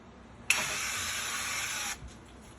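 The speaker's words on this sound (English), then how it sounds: "Little bit of duck fat spray" A single steady hiss of an aerosol duck fat cooking spray lasting about a second and a half, close by, then stopping abruptly.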